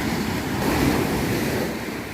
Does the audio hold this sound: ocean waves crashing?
yes